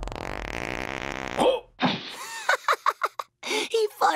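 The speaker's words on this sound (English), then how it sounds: "He farted." A fart sound effect from a trailer for the animated superhero film Teen Titans Go! To the Movies pops out briefly after music cuts off. Clipped speech bursts follow.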